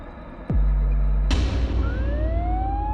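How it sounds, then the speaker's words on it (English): A loud rising ambulance siren wail kicks in abruptly, then a sharp burst leads into sweeping tones that keep climbing, close and dominating. "frightened by the sound of the ambulance sirens."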